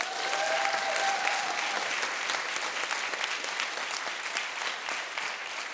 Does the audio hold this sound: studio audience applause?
yes